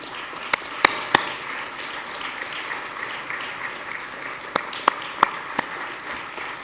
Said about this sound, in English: ask her to stand for a round of applause, please